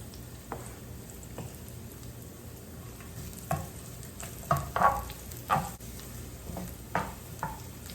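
Garlic and onion frying in a pan, a quiet steady sizzle broken by a few scattered utensil taps and scrapes that grow more frequent toward the end, with no speech.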